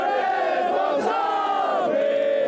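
Scottish football fans roar and chant together in a dense crowd celebrating a European Championship draw, a loud, sustained wall of voices with rising shouts throughout.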